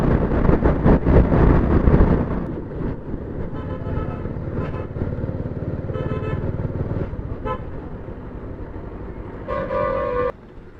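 Motorcycle on a winding mountain road in Sikkim during a group bike trip, with a steady roar of engine and wind throughout and a short burst of horn toots near the end.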